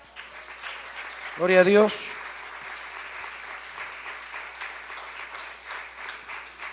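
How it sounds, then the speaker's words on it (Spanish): Church congregation applauding steadily with crowd noise, while a voice speaks briefly over the clapping early on. "Denle un aplauso al Señor."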